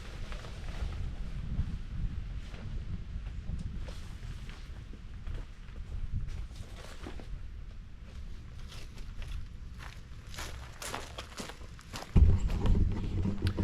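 Breezy outdoor wind buffets the microphone steadily while a Gazelle T4 Overland Edition tent is being set up, with low rumbling gusts throughout and a louder burst near the end.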